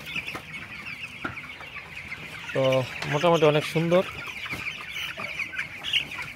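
Chickens in a raised slatted-floor poultry shed give a short burst of loud, close clucks in the middle, over a steady shed hum, while someone talks.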